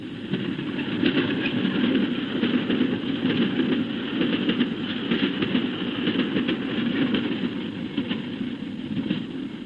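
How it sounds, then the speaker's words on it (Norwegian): A train rumbles past steadily on the Bergen Line in Norway, a continuous loud roll of wheels with faint rhythmic clacking throughout. "Tog 602 skal fram."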